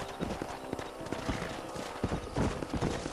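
Several horses gallop in Red Dead Redemption, close by, their hooves clopping in quick irregular bursts, with a whinny mixed in.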